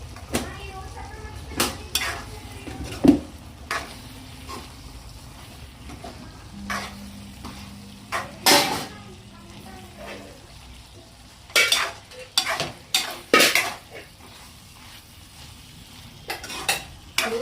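A spoon scrapes and knocks around a pan in irregular bursts while food sizzles softly underneath, close and clear.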